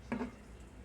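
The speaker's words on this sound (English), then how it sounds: "you're going to interrupt the fried egg process and fry. You're going to do a scramble fry." Eggs being scramble-fried in a pan give a short, quiet sizzle with a brief scrape of stirring near the start, with no voices.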